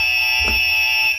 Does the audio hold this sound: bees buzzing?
no